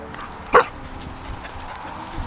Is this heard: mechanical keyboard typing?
no